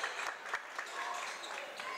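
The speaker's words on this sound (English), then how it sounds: "Gets a nice round of applause from the audience." Audience applause in a high school gym as senior Kobe Whiteman of the Galena Hawks checks out of his final boys basketball game against Monroe, a steady round of clapping with some crowd noise throughout.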